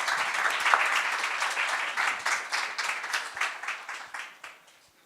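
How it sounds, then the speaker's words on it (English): Applause from an audience at an international conference on circular makerspaces, with distinct clapping at first that thins out and fades to a few scattered claps at the end. "One more round of applause"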